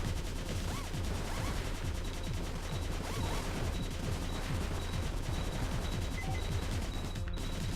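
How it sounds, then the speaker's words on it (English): A machine gun fires steadily in the retro platformer Cave Story, a dense rapid stream of small shots that runs unbroken for several seconds at a moderate level with no voices. "Awesome power of the machine gun."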